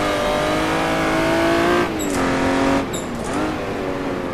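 A Jaguar D-type race car at Goodwood roars loudly at close range, engine pitch rising under acceleration, then briefly dropping twice as gears change before it pulls again.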